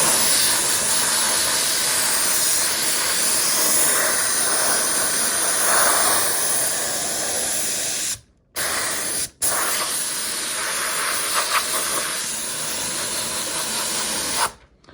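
Compressed-air blow gun hissing loud and steady while drying water off a Yamaha R6 stunt bike part, with two brief cutoffs midway and a final stop near the end.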